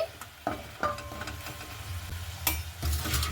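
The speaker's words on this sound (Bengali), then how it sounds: "তো খুব ভালো মতো করে আমি নাড়াচাড়া করে নেব" Spatula scraping and stirring spice paste with salt and chopped onion in a hot pan for egg curry, a few distinct scrapes and knocks over a light continuous sizzle, close and alone.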